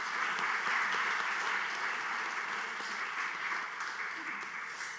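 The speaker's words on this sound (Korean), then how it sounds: "박수 하도록 하겠습니다." A church congregation at a 50th anniversary service applauds the choir and worship team, a full, sustained wash of clapping from a large room that slowly tapers off.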